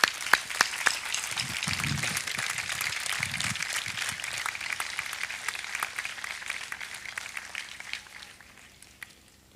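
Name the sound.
applause at Palio di Feltre opening ceremony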